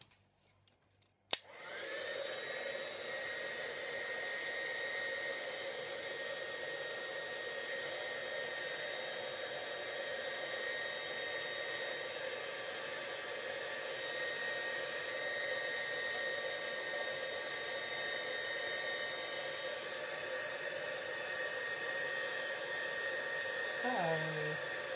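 Steady loud whoosh of a heat tool drying ink on Sheena Bristol board for ink smooshing, starting abruptly after a brief click and running continuously near the mic with a constant airy roar.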